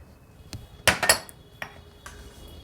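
A metal spoon clinks against a bowl as flour is added, giving several sharp close clinks and scrapes, with one loud cluster in the middle and no voices.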